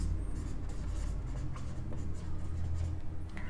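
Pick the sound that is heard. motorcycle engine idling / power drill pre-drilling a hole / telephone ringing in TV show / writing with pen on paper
writing with pen on paper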